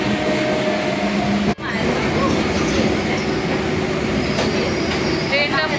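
A train rolls along close by with a steady rumble of wheels on rails and faint squeals, and a brief sharp thump early on.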